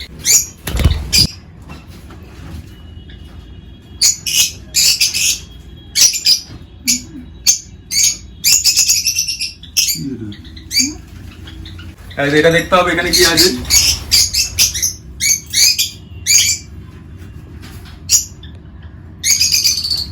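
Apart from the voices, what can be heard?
lovebirds in a breeding colony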